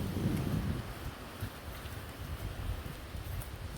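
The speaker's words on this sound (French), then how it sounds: "C'est énorme le vent qu'il y a." Strong wind gusting through garden trees in a vegetable plot, a steady low roar and rustle with buffeting against the microphone, loudest at the start and continuing throughout.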